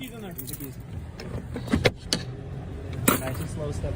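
Car keys jangle inside a car during a police traffic stop, in a few short, sharp metallic bursts under a low idling hum, while voices talk nearby.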